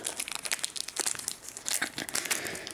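Crinkly plastic foil of a Pokémon Breakthrough booster pack being torn open and crumpled, a close, busy stream of rustling, crackling tears lasting a few seconds with no voices.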